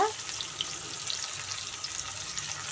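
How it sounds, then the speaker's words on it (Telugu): Onions frying in a pan as the base for a small-prawn curry, a soft continuous sizzle with faint crackling, fairly quiet and steady throughout with no talking. "ఇప్పుడు బాగా ఎర్రగా వరకు ఏగా వేయించాలి మంచిగా ఉల్లిపాయలు"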